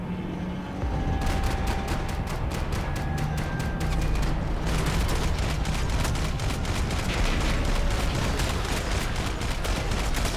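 Video game gunfire in Max Payne 3, with rapid sustained volleys and dense bursts of shots over a loud, continuous din of battle. Sharp repeated cracks run through most of it.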